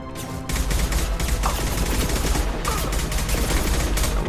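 The Collector gun in Mass Effect 2 fires a continuous, loud automatic stream of rapid shots that runs for several seconds without a break, with dense crackling bursts layered over a deep rumble.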